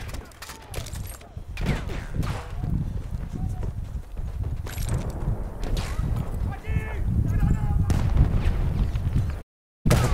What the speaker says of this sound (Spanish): Sabía que me estaba disparando alguien